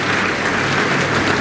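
An audience at a guidance camp in Pandharpur claps loudly for a police officer, a dense, continuous burst of applause without any voices.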